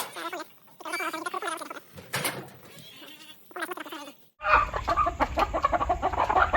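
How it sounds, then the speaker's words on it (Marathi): Hens in a farm shed give intermittent clucks and squawks, close by, with a louder burst of rustling and scuffling near the end. "हे कोंबड्या अशा बसल्यात बघा सगळ्या आपल्या."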